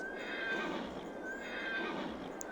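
A horse in the Farming Simulator 22 video game neighs twice in steady, continuous whinnies, each rising pitched cry standing out clearly over a constant background hum with no talking.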